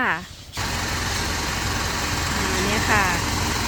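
A used pickup truck engine with no muffler idles loud and raw in a steady, rough drone that runs almost the whole time after a brief quieter moment at the start.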